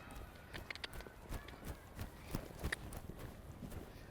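A horse canters in an arena during a showjumping training session, soft rhythmic hoofbeats thudding faintly at a moderate distance.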